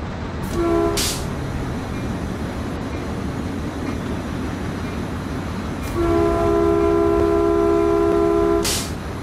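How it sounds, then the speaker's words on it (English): A CalTrain Baby Bullet in Train Sim World 2 passes with a steady, loud rumble of wheels and cars, and two sustained horn blasts sound, one brief near the start and a longer one toward the end. "Another one. Another train."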